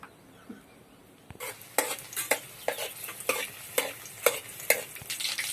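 Garlic frying in a pan for a matki dish sizzles softly at first, then a spoon starts stirring, giving repeated sharp scrapes and clinks over the crackling oil, close by with no speech.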